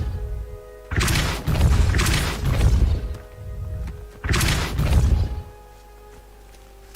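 A Depulso force spell cast in Hogwarts Legacy, heard as two heavy whooshing thumps about three seconds apart, each a loud broadband burst that booms and then fades into quiet.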